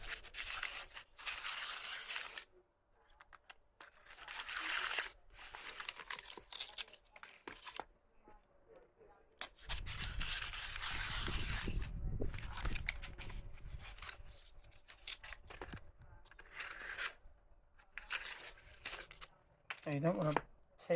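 A knife trims material for an anti-vibration loudspeaker platform, producing repeated close scraping and rasping strokes in bursts, with a longer heavier stretch in the middle and brief pauses between passes.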